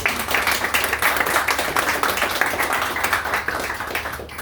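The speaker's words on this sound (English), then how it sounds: "I think they should get a round of applause for everything they" A round of applause at a political fundraiser event, many people clapping together in a dense, loud, sustained burst that carries steadily throughout.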